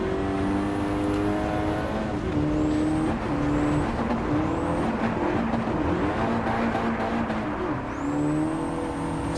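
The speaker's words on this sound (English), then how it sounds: "So you heard my handbrake a few times" Gran Turismo 7 car engine revving and whining through a drift, tires and handbrake scrubbing in short bursts, with rising engine pitch sweeps and no speech.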